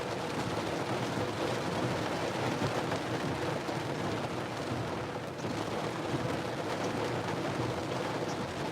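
Steady heavy rain pours during a storm chase, dense and continuous, with low rumbles of thunder blended into the wash of noise.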